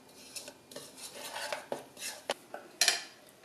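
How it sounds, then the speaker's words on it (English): A spoon scrapes and clinks against a jar while sourdough starter ingredients are mixed together, giving irregular knocks and rasping strokes, close but soft, with no talking. "we just mix that all together"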